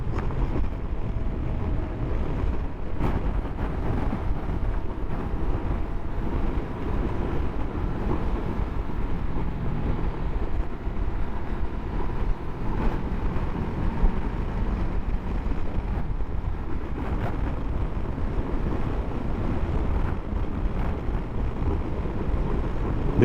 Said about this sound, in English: It really is blustery today though. Even in this bit of woodland here where it's protected, you can still feel it gusting.